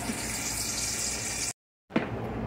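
A kitchen tap runs into a bowl during tomato prep for home canning, a steady broad hiss of pouring water that stops abruptly for a moment, then gushes back in.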